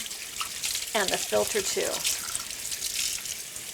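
Running water rinses the dirty water tank of a Eufy Clean X8 Pro robot vacuum, a steady nearby faucet hiss and splash under a brief spoken line.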